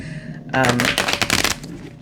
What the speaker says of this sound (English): I don't even know if I can shuffle these cards